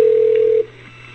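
A telephone line on hold gives a loud, steady electronic tone that holds for about half a second and then cuts off, leaving a faint low hum of the open line.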